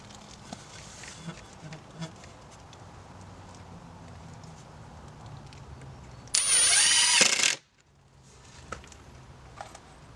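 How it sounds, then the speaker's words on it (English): A drill drives a screw into a DIY wooden target stand in one loud buzzing burst of about a second, then stops abruptly, with faint handling noise before and after. "Screw in to hold it."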